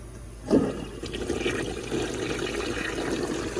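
A restored 1958 Standard Cadet toilet flushes with a sudden loud surge as the handle is held down, then a steady rushing swirl of draining and refilling water that runs on to the end.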